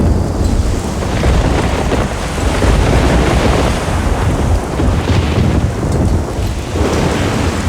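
Heavy thunderstorm in the video game Risen 2, with loud, steady rain and rolling thunder filling the whole stretch as a dense, continuous roar with wind noise and no talking.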